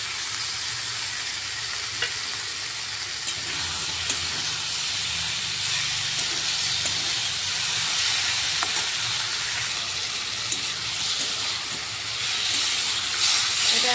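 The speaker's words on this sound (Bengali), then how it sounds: "এখন আমি মশলাটা আর মাথা টুকরোগুলো আমি এর উপরে দিয়ে দিচ্ছি" Spices and pieces of katla fish head hit a pan of fried pumpkin and sizzle steadily, a close, dense hiss of hot oil that holds at an even level throughout.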